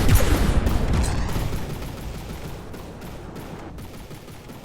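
The Iron Maid robot unleashes its barrage in a robot combat game: one heavy, booming burst that rolls into a long, fading rumble with scattered crackles, loud at first and slowly dying away.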